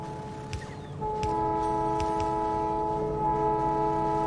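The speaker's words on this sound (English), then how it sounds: "Train noises intensify." Trains in the video game Factorio rumble and clatter steadily, with sustained tonal horn-like hums entering after a second and a few sharp clicks of wheels over the track.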